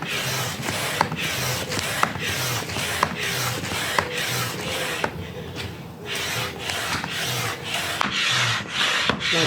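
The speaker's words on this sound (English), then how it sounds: "Nice smooth action on the pump anyway" A hand pump inflates a 2022 Sandbanks Style Optimal inflatable kayak with rhythmic, evenly spaced whooshing strokes, about two each second, loud and close throughout.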